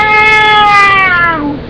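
A kitten gives one drawn-out meow, loud and close, its pitch sliding slowly downward as the cry tapers off, with nothing else competing.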